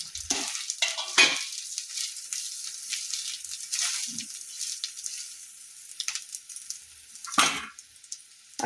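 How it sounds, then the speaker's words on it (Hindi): Ground masala frying in a pan with garlic and ginger for an egg gravy, a close sizzle with bursts of stirring and spoon scrapes, intermittent and sharp against quiet gaps. "आ ओ मसाला जे पीसने छलहुँ हेँ से दऽ रहल छियै।"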